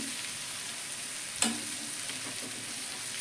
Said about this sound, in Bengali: মোটামুটি পেঁপে এবং আলু টমেটো পেঁয়াজ ভেজে নিয়েছি